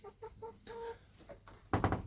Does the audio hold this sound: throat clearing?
no